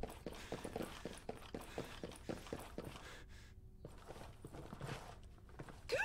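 Footsteps of a player character in the tactical shooter Ghost Recon Breakpoint, a steady run of soft regular steps through the first half, then a pause and a few scattered steps over low game ambience.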